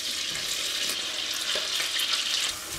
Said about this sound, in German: So, Butter ist geschmolzen, jetzt geben wir unsere ganze Zwiebel rein.